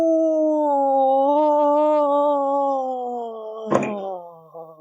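A voice imitates an eerie, wind-like howl in catacomb tunnels: a steady, wavering hollow moan that slowly fades, with a short thump near the end.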